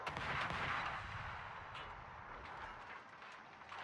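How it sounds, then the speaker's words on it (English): Heavy naval gun salvo from the battlecruiser Kronstadt in World of Warships, a loud, sustained boom and rumble that swells early and then rolls on as a broad, fading roar with no speech. "Kronstadt just fired his guns"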